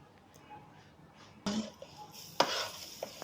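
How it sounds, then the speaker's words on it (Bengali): Boiled jujubes are stirred and tossed in a woven basket, giving faint rustling with two sharp, louder knocks and scrapes and a few soft taps between them. "সেদ্ধ করার পর বড়টা ঝাঁপিতে নিয়ে এরকম নাড়াচাড়া করে"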